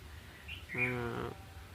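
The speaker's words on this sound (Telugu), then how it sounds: "ఆ పక్షులు అరుపులు చూసారా" Birds call near a house on a cool, breezy morning, with one sustained, tonal call of about half a second standing out clearly over soft outdoor background noise.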